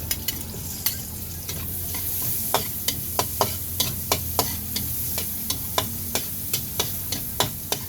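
Onion sautéing in margarine in a pan for a Filipino vegetable stir-fry, a steady close sizzle broken by regular sharp clacks of a utensil stirring against the pan.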